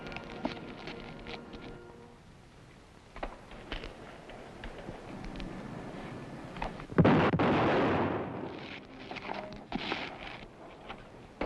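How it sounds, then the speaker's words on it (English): Gunshots in a dramatized Western scene, with a few sharp cracks early on, then a loud blast with a rolling echo near the middle, followed by scattered pops and footsteps. "Bob Ollinger heard the shots and came running out."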